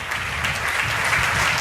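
A church congregation at a Tamil Sunday service claps steadily in a dense, continuous burst of applause filling the room, with no speech over it.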